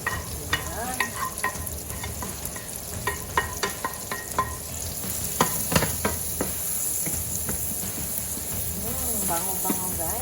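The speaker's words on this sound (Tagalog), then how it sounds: "Ito yung garlic ko, nilagay ko sa kawali." Garlic sizzles and crackles in a pan after mushrooms, with a steady frying hiss and repeated scraping stirs of a utensil against the pan throughout.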